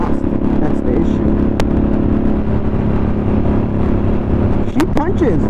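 A 2022 Harley-Davidson Sportster S engine runs loud and steady with a low, continuous rumble, close up throughout, and a brief rising whine near the end.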